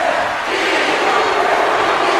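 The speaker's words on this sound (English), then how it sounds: "you hear the fans here in Chicago chanting Amanda's name, chanting Mandy." A Chicago wrestling crowd chants a wrestler's name in unison, a loud, dense wall of voices filling the arena.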